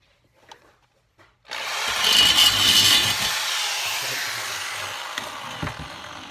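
Power drill biting into the hard steel of an R32 Skyline exhaust for an electronic cutout install, a steady loud grinding whir starting abruptly after a couple of faint knocks and running continuously to the end.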